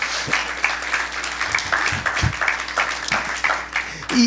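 A church congregation applauds during a Spanish-language sermon, moderately loud clapping that rises and falls with a few low thuds and a brief voice near the end.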